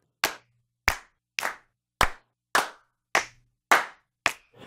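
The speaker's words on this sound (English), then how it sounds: "For the claps and snaps, I used the Clap Pack Deluxe from Loops de la Creme" Eight crisp, dry hand claps from a boutique sample pack sound at an even, steady pace, each sharp and close with a short decay and a natural room feel.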